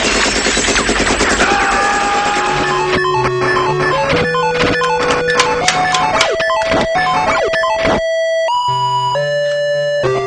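Rapid gunfire bursts in the Rambo video game crackle among loud, chaotic electronic tones and siren-like bleeps, continuous and harsh throughout.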